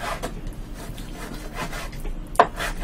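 A knife slicing cucumber on a cutting board, with soft, steady cuts in a quick rhythm and one sharper knock near the end, close and alone without talk.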